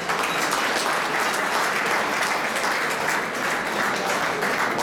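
Sustained applause from an audience at an iftar dialogue event, honouring the organisers Atlas Media, dense and steady clapping that fills the room throughout without a break.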